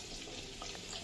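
Three sliced onions sauté in oil in a pan for a vegetable biryani, giving a soft, steady sizzle and hiss throughout the brief moment, with no talking.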